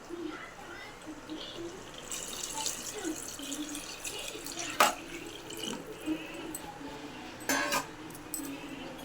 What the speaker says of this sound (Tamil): இப்போ நம்ம ஆறு கிளாஸ் தண்ணி ஊற்றிக்கலாம்